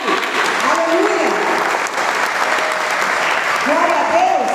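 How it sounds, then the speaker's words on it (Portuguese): A church congregation claps loudly and continuously at a worship service, a thick sustained applause with a preacher's raised voice and shouts rising over it at the start and end. "Dê um forte aplauso a Jesus."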